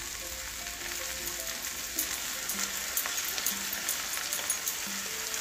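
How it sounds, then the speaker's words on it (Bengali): Mustard paste poured into a hot frying pan for a bitter gourd chorchori sets off a loud, steady crackling sizzle that keeps going, with faint tonal sounds in the background. "এই যে সর্ষেটা পেস্ট করে নিয়ে এসেছি, এবারে ঢেলে দেবো"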